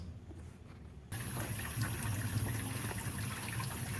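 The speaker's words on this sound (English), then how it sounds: "you take your tools over here to the sink. You're going to wash all the clay off of all of your tools." Tap water running steadily into a sink while clay-covered pottery tools are washed, a quiet hiss that suddenly opens up into a fuller, continuous rushing flow.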